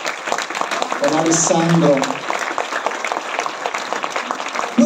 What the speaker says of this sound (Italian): Facciamo un applauso a questa meravigliosa famiglia